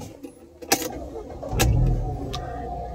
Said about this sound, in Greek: Τώρα θα βάλουμε μπρος το αυτοκίνητο